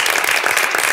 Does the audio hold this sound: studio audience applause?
yes